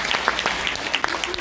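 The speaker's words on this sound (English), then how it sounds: "Let's give Rupert a big applause." Brief burst of steady audience clapping at an annual banquet in the San Francisco Bay Area, dense and fairly close, with scattered individual claps standing out.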